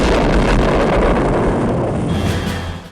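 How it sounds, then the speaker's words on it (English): A large explosion from the 1965 film Thunderball erupts as a dense, roaring boom with rumbling debris, loud and sustained for a few seconds before tapering off. "Beautiful explosion."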